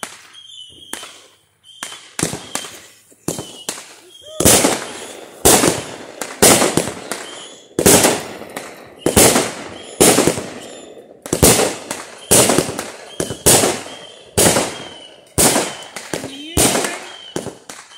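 A Saturn rocket pack of fireworks goes off in a long string of sharp loud bangs, irregular at first and then a rapid steady volley with short echoing tails, heard outdoors at fairly close range.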